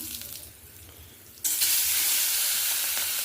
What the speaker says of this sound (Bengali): প্রথমেই আমি কালো জিরে ফোড়ন দিয়ে দিলাম।